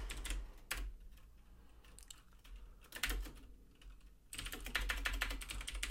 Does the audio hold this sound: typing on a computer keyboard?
yes